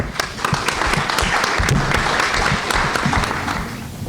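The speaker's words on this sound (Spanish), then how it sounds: "Recibimos al doctor Velázquez entonces con un aplauso" An audience at a Peruvian academic health forum breaks into steady, dense applause that holds for several seconds without a break.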